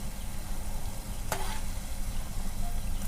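Egg fritters frying in hot oil, a steady dense sizzle heard close and alone, with a single brief scrape or clink partway through.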